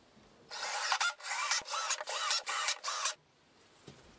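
A power driver sets screws through a wooden box into a leg, several short whirring pulses in quick succession, close and fairly quiet, with no voices.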